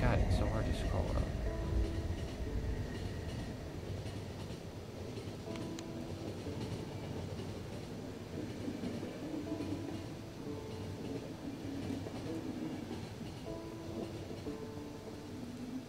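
Steady rumbling clatter of a train running on rails in the video game The Final Station, continuous and moderately loud throughout, with talking over it.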